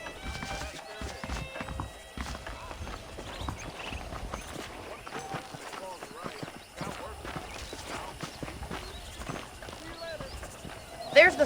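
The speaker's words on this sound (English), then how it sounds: "The horses are saddled up over here." Horse hooves clip-clop at a walking pace in the Red Dead Redemption video game, the steady hoofbeats mixed with saddle and gear sounds, an occasional whinny, and a voice talking over them.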